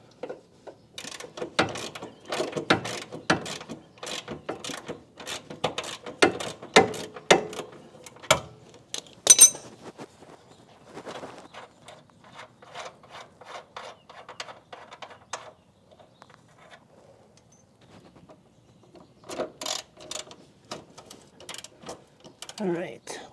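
A wrench loosens a 19 mm nut on the rear toe arm of a Mitsubishi Evo 8/9, with a close, loud run of sharp ratcheting clicks, then quieter scattered clicks and a brief final burst.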